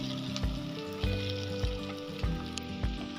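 Gongura leaves and green chillies fry in a hot pan, a steady close sizzle broken by several soft thumps and scrapes as the mixture is stirred.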